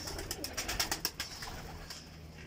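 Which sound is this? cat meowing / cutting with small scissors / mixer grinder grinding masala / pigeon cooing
pigeon cooing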